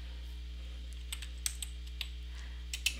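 Keywords are typed on a computer keyboard in a quiet room: a handful of light, scattered key clicks, faint and close over a steady low hum.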